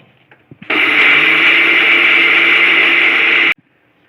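A kitchen mixer grinder dry-crushes masala of coconut, chillies and tamarind in one loud, steady whirring burst of about three seconds, with a few faint knocks before it starts and sudden silence when it stops.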